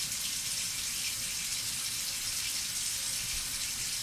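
A tap runs water into a kitchen sink while bread is dampened, a steady soft gushing stream heard alone at low level.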